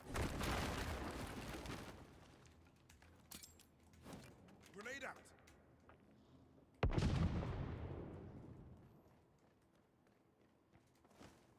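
A grenade goes off in a ranked video game match: a sudden sharp boom that decays slowly, preceded by quieter scattered thuds and clatter, all fairly subdued in level.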